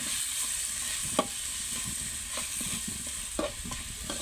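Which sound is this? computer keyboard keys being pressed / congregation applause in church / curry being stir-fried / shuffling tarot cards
curry being stir-fried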